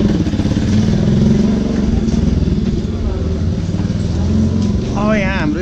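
Motorbikes are moved away outside an exam centre in Nepal, their engines rumbling and puttering close by while people talk over the noise.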